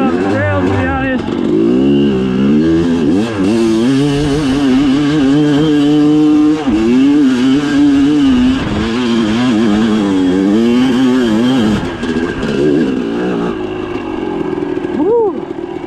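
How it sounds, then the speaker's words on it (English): A race-gas-fuelled dirt bike engine revs hard and loud on a cold trail, pitch climbing and falling through repeated throttle blips, with a brief dip before the roar resumes and sustains to the end. "We still on that 101 race gas though. This bike freaking loves it, dude."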